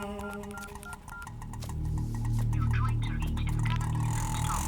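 A phone is being dialed in an action movie scene, a quick run of clear keypad tones followed by a ringing tone over a low hum and a busy background.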